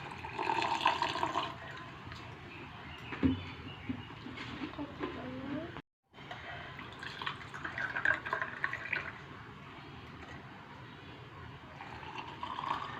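Water poured into mango sherbet being made at home, a close splashing trickle with a brief gap midway.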